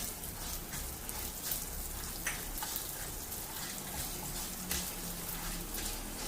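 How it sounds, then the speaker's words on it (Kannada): Dried chillies and coriander seeds fry in a pan for a spicy Kundapura coastal chicken curry, giving a continuous close sizzle with scattered small crackles and pops, and no talking. "ಈಗ ಇಲ್ಲಿ ಮೆಣಸು ಆಗಿದೆ, ಪಟ ಶಬ್ದ ಕೇಳ್ತಿದೆ."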